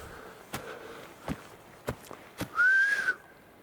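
A single rising whistle near the end, clear and fairly close, preceded by several sharp thuds like footsteps or knocks in a quiet outdoor setting.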